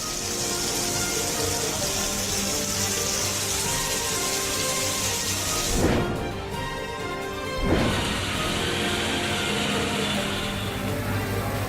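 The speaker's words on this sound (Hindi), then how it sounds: "भारी बारिश ने यूपी के कई शहरों में तांडव मचाया।" Heavy monsoon rain pours down on flooded streets in Amroha, Uttar Pradesh, a steady broadband wash of falling water with two brief louder surges partway through and no voices.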